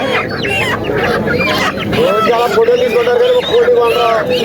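A country rooster clucks and calls loudly up close at a Saturday village poultry market in Mamidada, with people chattering and haggling nearby in a busy, noisy setting.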